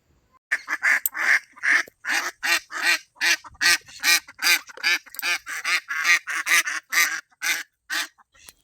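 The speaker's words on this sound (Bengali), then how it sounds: "আর দেখো হাঁসগুলো দেখো" Ducks near a village pond quack loudly and repeatedly in a rapid, uneven series of nasal calls, close by and with little else audible.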